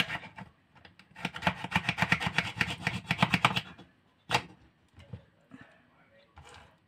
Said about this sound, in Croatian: Sad ovdje da izrendam, ovo je beli luk.